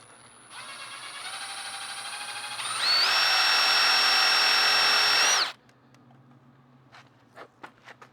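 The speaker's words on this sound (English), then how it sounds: "Drill a small," A power drill whirs steadily while drilling a small hole in a 2017 Ford Focus RS for an LED, then revs higher in pitch for a few seconds before stopping, followed by faint clicks and small knocks.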